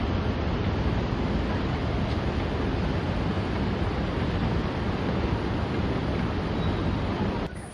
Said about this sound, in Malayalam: അങ്ങനെ നമ്മൾ വെള്ളച്ചാട്ടമൊക്കെ കണ്ടു കേട്ടോ.